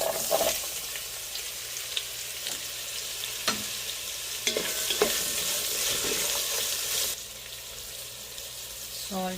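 Onions frying in oil with whole pulao spices such as cinnamon, star anise, cardamom and cloves for a paneer and pea pulao: a steady sizzle broken by occasional scrapes and clinks of a spoon in the pan, heard up close.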